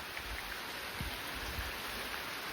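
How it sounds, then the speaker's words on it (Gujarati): Rain falls in a soft, steady outdoor hiss, faint and unbroken, with no voices. "વરસાદ આવે."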